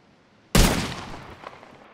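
A single close gunshot during target practice in Red Dead Redemption 2, a sharp loud crack that decays into a lingering echo.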